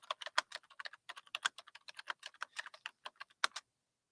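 Rapid computer keyboard typing, a dense run of crisp individual key clicks in uneven bursts, close and clear with no talking.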